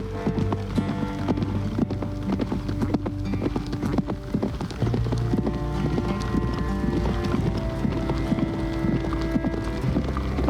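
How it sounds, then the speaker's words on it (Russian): Horses walking through a village, their hooves clopping in a steady, continuous rhythm against a dense outdoor background. "Вообще это не наши лошади"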